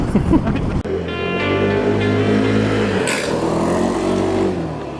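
A Kymco People 300 GTi scooter, a 300cc high-wheeled model, ridden on the road gives a steady, loud engine drone with a brief change near the start, sustained throughout without speech.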